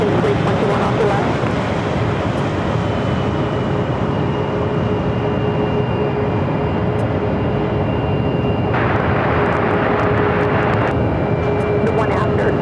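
An American Airlines A321 airliner at Phoenix airport gives off a loud, steady jet roar with a faint whine running through it. The sound stays constant and close for the whole stretch, with no break.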